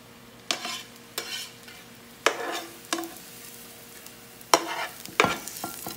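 Mushrooms get stirred into a bowl of basmati rice, a handful of distinct scraping, clinking strokes spaced about a second apart over a faint background hum, close and without talk.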